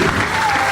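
Congregation clapping in a church service, a short dense burst of applause from a crowd, loud and sustained with a hint of voice mixed in.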